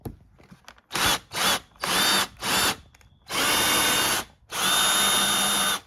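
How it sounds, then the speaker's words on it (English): A power drill bores into the door trim of a BMW X3 F25 or X4 F26 front driver's door, sounding in short bursts: four brief whirring runs, then two longer sustained ones, close and clear with pauses between. "drill down with a drill that's about the right size and see if we can't find that hole"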